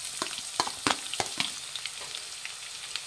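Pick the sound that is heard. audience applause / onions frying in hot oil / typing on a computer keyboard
onions frying in hot oil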